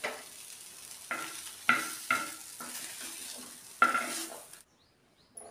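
A spatula scrapes through onion, tomato and coriander stir-frying in a pan, in about five distinct, separated strokes over a soft sizzle, before the sound cuts out near the end.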